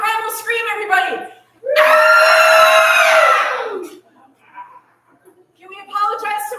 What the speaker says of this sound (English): Have a primal scream, everybody.